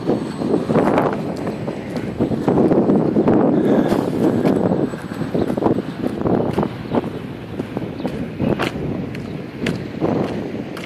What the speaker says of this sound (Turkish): Ama çok rüzgar var ya.